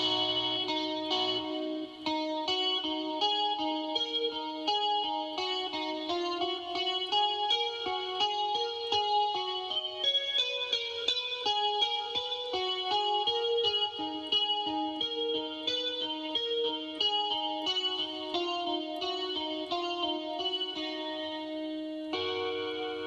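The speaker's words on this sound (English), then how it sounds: "Now that sounds so much more like a guitar just by adding effects." A Korg Pa5x keyboard playing a guitar-like tone in a continuous melodic line, wrapped in a spacious hall reverb, with no talking.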